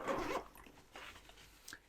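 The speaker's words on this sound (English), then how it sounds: "Same nice quality zipper." A zipper on the front pocket of a K&F Concept Beta Messenger camera sling bag is pulled in one loud, close, scratchy run, with a few fainter rustles after.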